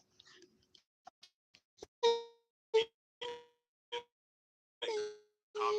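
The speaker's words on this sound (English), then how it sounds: "So another bell, another." A bell struck several times at irregular intervals, each hit a bright ringing clang that quickly decays, preceded by faint small clicks and taps; close and clear with no talk.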